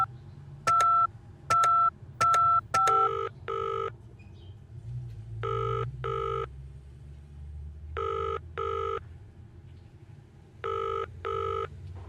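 Video game telephone sounds: a run of dialing tones, then repeated paired electronic rings separated by pauses, loud and clear over a low ambient hum.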